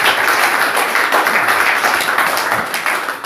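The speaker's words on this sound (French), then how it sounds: "Applaudissons pour le frère Kamagate." A room full of people applauds a brother named Kamagate, loud close clapping sustained evenly across the whole stretch with no talk over it.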